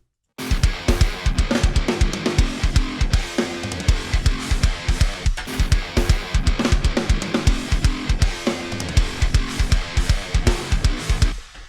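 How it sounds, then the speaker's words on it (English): A programmed drum pattern of kicks, snares and cymbals plays steadily with busy tom-style hits, sharp and close with no voices. "I'm going to do a fill that I know I like to play a lot on the actual drum set."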